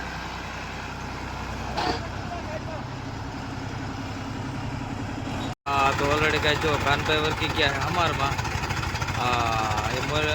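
Tractors pull a rotavator across a farm field, a loud steady diesel engine drone with rattling, under close conversation from people nearby.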